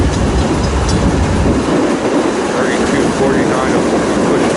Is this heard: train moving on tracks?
yes